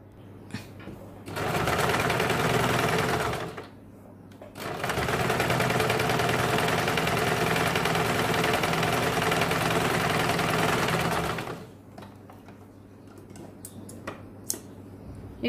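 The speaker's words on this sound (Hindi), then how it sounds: "अभी यहाँ पे हमें इसके ऊपर डबल सिलाई लगानी है" Electric sewing machine double-stitching a lined blouse, running in two loud continuous bursts, a short one and then a longer one, with a quiet pause between and clicks after it stops.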